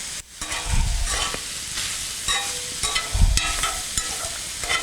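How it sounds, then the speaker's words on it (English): Cornmeal mixed with hot water is stirred for a turkey Mexi-pie, giving a continuous wet swishing and scraping with a couple of low thumps against the container, close and steady, with no talking. "Just stir that all around."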